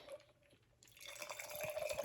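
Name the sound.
pouring a freshly shaken drink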